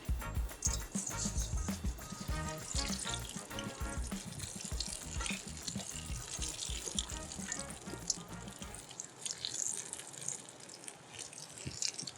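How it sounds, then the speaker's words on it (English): Potatoes sizzling in hot oil, seasoned with rosemary salt and cooked alongside steak over charcoal, give a loud, steady crackling fry that fills most of the clip, then drops suddenly to a quieter hiss near the end. "Oil is hot, potatoes in."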